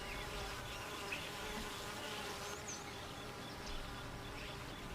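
Bees buzz steadily and close, a continuous hum with no voices.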